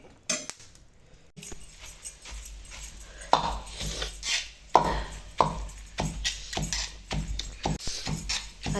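Green chillies crushed with a stone in a pan for village-style thecha give a run of sharp knocks, scrapes and metallic clinks. The hits are irregular and close up, with no talk.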